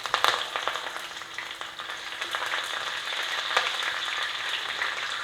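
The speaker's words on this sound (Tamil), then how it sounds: "கடுகு உளுந்தம் பருப்பு போட்டுடலாம் ஃபஸ்ட்டு, அது பொரியட்டும்." Mustard seeds, urad dal and curry leaves spluttering in hot oil as the tempering for a fish kuzhambu, a dense, steady crackle of close, sharp pops and sizzling that runs throughout with no talk.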